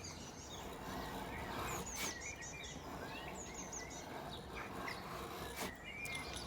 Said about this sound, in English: Listen to the birds, they're going mad.